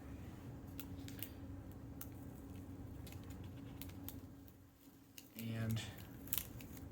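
Close scissors cutting paper parts for a model plane, a run of quiet clicking snips over a low hum, with a short louder burst near the end.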